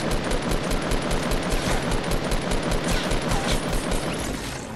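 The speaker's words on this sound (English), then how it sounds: "I'm getting shot. He's on low health. Someone shooting at me." Rapid, dense gunfire from a Fortnite Battle Royale match rattles on continuously, loud and close, in a steady stream of overlapping shots with no voices over it.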